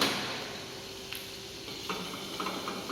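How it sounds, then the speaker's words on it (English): Butter melting in a pan for sautéing vegetables while making rösti primavera, a soft steady sizzle and hiss close by with a few light stirring clicks and no talking. "Then butter to saute the vegetables."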